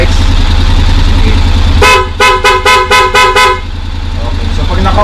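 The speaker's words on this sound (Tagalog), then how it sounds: "So PIA horn na po ito na merong combo lights." Aftermarket PIA horn fitted to a Honda X-ADV 750 scooter-motorcycle blares in about seven sharp, evenly spaced loud toots over an idling engine rumble.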